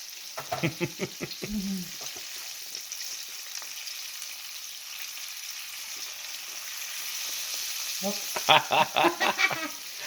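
A bullfrog fries in seasoned oil in a skillet, giving a steady, close sizzling hiss throughout, with a voice breaking in briefly at the start and again near the end.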